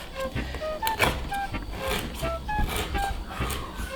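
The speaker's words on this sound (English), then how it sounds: "just using a larger knife, I'm going to shave some of this galangal." A large knife shaving woody galangal root, producing intermittent scraping and cutting strokes with soft knocks against a board, close and moderately loud, with small tonal squeaks between strokes.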